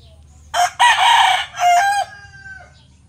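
A Bulik gamefowl rooster crows nearby on a gamefarm, giving one loud, full cock-a-doodle-doo that breaks into several strong bursts and trails off over a low background rumble.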